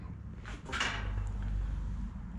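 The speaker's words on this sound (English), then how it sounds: "Let's close the door here." The cab door of a 1932 Ford pickup hot rod shuts, giving one soft thump with a brief rattle over a low background hum, heard alone at moderate level.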